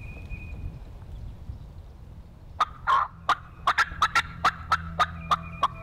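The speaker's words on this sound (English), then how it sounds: "The air is full of birds and even some distant gobbles." Wild turkeys gobble during a spring turkey hunt in the woods: after a quiet stretch, a quick series of about a dozen sharp, rattling gobble bursts rings out, fairly loud and evenly spaced, with no talking.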